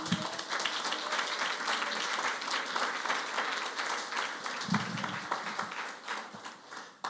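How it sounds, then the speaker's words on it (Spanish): Church congregation applauding during a sermon, steady dense clapping that continues loud throughout with a few brief voices and cheers mixed in. "Da un aplauso al Señor."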